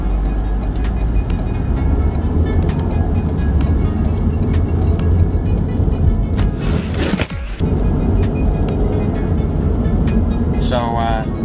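Car driving at normal speed, with a steady low road rumble and engine drone throughout, heard from inside the cabin, with a brief scrape near the end.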